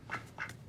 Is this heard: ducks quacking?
yes